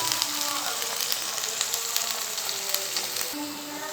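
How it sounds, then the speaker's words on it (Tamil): Onion, ginger and garlic paste sautés in a pan for a vegetable gravy, giving a steady, close sizzle with faint crackles throughout and no clear voice. "இது வெங்காயம் இஞ்சி பூண்டு பேஸ்ட் போட்டாச்சு. இது வதங்கிட்டு இருக்குது."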